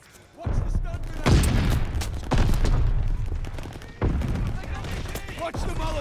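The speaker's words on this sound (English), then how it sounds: "Watch the stun grenade." Heavy blasts and bursts of gunfire in a Call of Duty: Vanguard multiplayer match, with a loud stun grenade bang landing among sustained booming combat while game voice callouts talk over the action.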